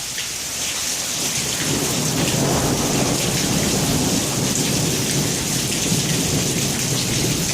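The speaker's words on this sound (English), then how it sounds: "And here comes the thunder." Thunder rolls in a low, building rumble during a thunder shower, beneath a loud, constant wash of rain hitting surfaces near a flooded spot under a bridge.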